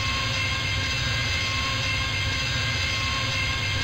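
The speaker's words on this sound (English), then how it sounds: "Interesting sound my TIE fighter is making." A TIE fighter engine in the video game TIE Fighter: a constant, dense mechanical roar with a steady high whine holds unbroken throughout, loud and uniform with no pauses or voices.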